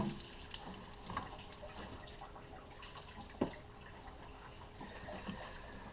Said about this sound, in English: using the lower rad hose and putting pressure through it, letting it pour out the other end